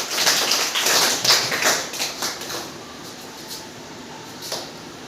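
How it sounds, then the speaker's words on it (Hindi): Schoolchildren applauding at an award ceremony for students who qualified in the NMMSS exam, a loud burst of clapping that fades into scattered claps over steady room noise. "जोरदार ताली बजाएंगे सारे बच्चे।"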